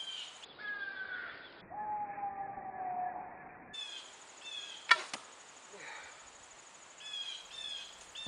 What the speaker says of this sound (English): Lousy birds are laughing at me.